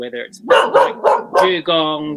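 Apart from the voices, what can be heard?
dog Fred barking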